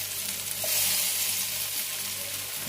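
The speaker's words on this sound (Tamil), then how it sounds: "கொஞ்சம் கொஞ்சமாக போட்டு பொரிச்சு எடுத்துடலாம்." Stick-cut potatoes fry in hot oil in a large pan, giving a steady, close, loud sizzle with no voices.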